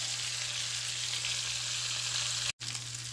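Beef liver frying in a pan, a steady, even sizzle with a faint low hum beneath, briefly cut off near the end.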